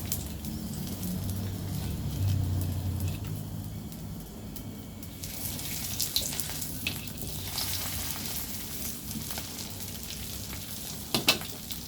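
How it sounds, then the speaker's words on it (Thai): Dried sea fish (snakehead-type dried fish) frying in hot oil in a pan, a steady continuous sizzle with crackling pops and spits throughout, loudest near the end with a couple of sharp splutters. "ทอดเรียบร้อยแล้วจ้า"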